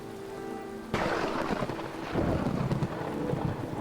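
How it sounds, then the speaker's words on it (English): A thunderstorm over a lake: a sudden loud crack of thunder rolls out over steady heavy rain, with a second rumble building beneath the downpour, no voices. "It has been storming all morning. The wind, she's going crazy. Thunder, lightning, the whole shebang!"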